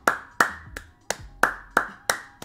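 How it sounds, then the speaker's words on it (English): Seven sharp hand claps in a slow, even rhythm, close and loud, with no talking, from a Roblox video game. "I'm clapping right now."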